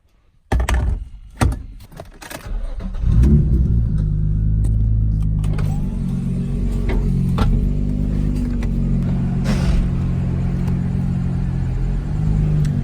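A Nissan 350Z drives off after a sticky clutch fix: a few door thunks at the start, then a steady low engine rumble with slight revving changes as the car moves, alone with no talk.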